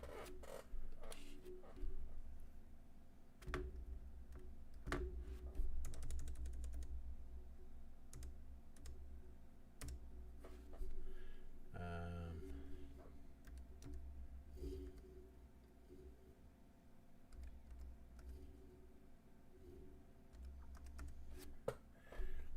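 A computer keyboard being typed on slowly: irregular clusters of close clicking keystrokes with pauses between, plus a few louder clacks and a brief whirring burst midway.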